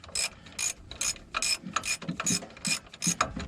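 Impact wrench on a wheel bearing hub of a Dodge RAM 3500: a series of quick ratcheting rattles in short, rhythmic bursts, fairly quiet and close, with no talking.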